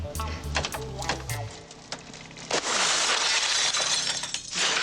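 Old windows being pulled out during a home renovation: a series of sharp clinks and cracks, then a loud burst of breaking glass that leaves a sustained crunching, shattering wash, close and loud.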